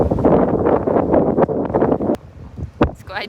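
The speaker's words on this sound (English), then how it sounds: "It's quite windy." Strong wind at Mont Saint-Michel in Normandy buffets the microphone with loud, gusty rumbling that eases toward the end, and brief speech-like sounds come through.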